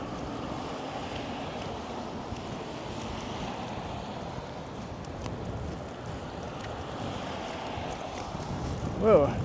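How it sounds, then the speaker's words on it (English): Strong outdoor wind roars steadily across the microphone on a slushy snowy day in Toronto's Cabbagetown and Regent Park, a continuous broad rush with gusty swells and a brief louder blast at the end. "Whoa, got some major wind happening now."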